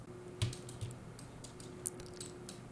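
Computer keyboard arrow keys are tapped, several soft separate clicks spaced irregularly over a steady electrical hum, close and quiet.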